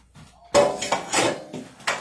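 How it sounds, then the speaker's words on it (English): Metal utensil clanking and scraping against a pot while ingredients are stirred, several sharp knocks at uneven intervals, close and fairly loud. "Stir it all in"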